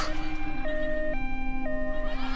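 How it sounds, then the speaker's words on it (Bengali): An ambulance siren wails close and loud in a short burst, its pitch alternating between two tones over a low rumbling background. "অ্যাম্বুলেন্সের শব্দ"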